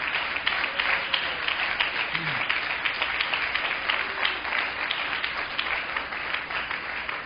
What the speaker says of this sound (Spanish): Démosle ese aplauso al Señor, fuerte.